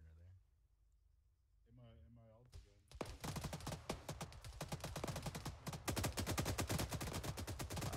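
Rapid gunfire in Arma 3 erupting after a quiet spoken moment, a fast run of sharp repeated shots growing louder and continuing to the end, with voices heard before it.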